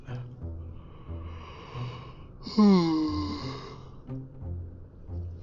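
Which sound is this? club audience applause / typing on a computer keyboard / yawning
yawning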